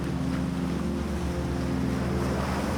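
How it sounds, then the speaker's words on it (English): In a video game, a steady engine-like drone of road traffic with low tonal hum blends with a continuous wash of sea waves and wind, a constant ambient bed with no voices. "The sounds of the sea blend perfectly with the cars from the road"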